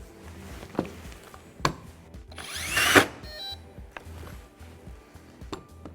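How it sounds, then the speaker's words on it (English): A Festool TPC combination drill driver jams in wood and its safety clutch kicks in, giving a loud, brief burst of grinding whir near the middle, with quieter tool clicks and knocks around it. "I'm going to try and get it to jam, and you'll hear the reaction of the drill saving my fingers"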